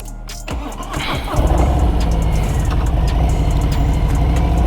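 A motorcycle engine cranks briefly and catches about a second in, then settles into a steady, close, rumbling idle with no talking.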